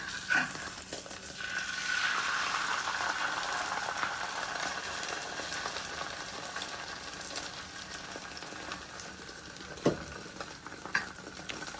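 An egg fries in a hot pan with a continuous soft sizzle and occasional close scrapes and taps as it is turned.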